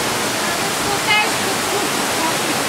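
Deep water rushing and swirling as a loud, steady roar that fills the whole clip, with voices faintly heard over it.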